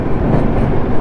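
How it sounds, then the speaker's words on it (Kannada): A train passes very close beside a road during a long motorcycle ride, making a loud, dense, continuous rumble that fills the brief moment with no voices. "ನೋಡ್ರಿ ಟ್ರೈನಿಂದ ಎಷ್ಟು ಸಮೀಪ."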